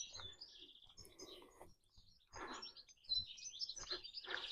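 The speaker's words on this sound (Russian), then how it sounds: "Здесь вообще так тихо, вон птички поют." Small birds chirp and twitter in a quiet residential neighborhood of Granada, Spain, in several bright bursts with short pauses and no talking.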